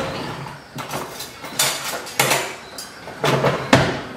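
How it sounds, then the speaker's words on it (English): A whisk working Mexican mole sauce with added broth in a pot, producing bursts of rapid scraping and clattering against the pot in several separate strokes, close and fairly loud with short pauses between. "I'm gonna switch to a whisk"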